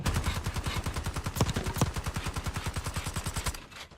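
Loud, rapid automatic gunfire in the shooter Black Ops 6, one steady sustained burst of closely spaced shots that runs for about three and a half seconds and then cuts off.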